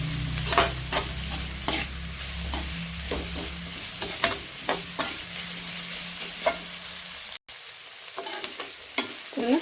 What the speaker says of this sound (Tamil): ஒரு 2-3 நிமிஷத்துக்கு எல்லாம் சேர்த்து வதக்கிட்டு இருக்கோம்